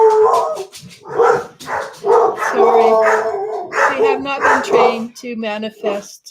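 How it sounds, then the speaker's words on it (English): Indoor dogs bark, howl and whimper in the background, apparently reacting to someone at the door, heard under continuous close talking by a woman. "sorry about the dogs. They seem to think somebody's at the door"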